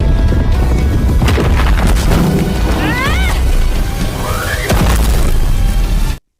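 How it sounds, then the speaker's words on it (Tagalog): Heavy booms and crashes from explosions in an anime fight scene roll on continuously for several seconds under loud, dense action noise, then cut off abruptly. "dumating sina Sonic at Genos na naglalaban kaya sumabog ang lugar"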